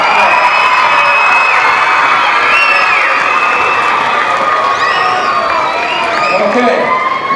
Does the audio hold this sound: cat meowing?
no